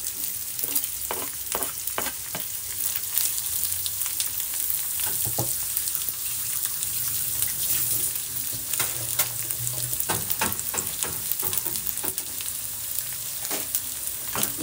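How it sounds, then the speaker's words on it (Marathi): Capsicum and cabbage stir-fry for chow mein in a small kadhai on full gas, giving a steady loud sizzle broken by repeated scraping and tossing strokes of the spatula. No one speaks. "या सगळ्या प्रोसेस मध्ये गॅस फुल ठेवायचा आहे आणि फ्राय करून घ्यायचा आहे."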